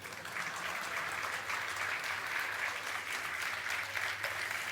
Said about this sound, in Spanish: Haga más largo el aplauso si me da tiempo.